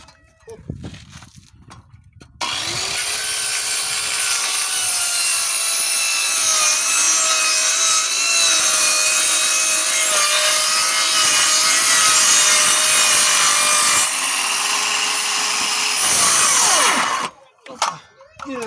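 A power saw cuts through pieces of wood in one loud, continuous stretch of about fifteen seconds, with a few brief knocks and handling sounds before and after.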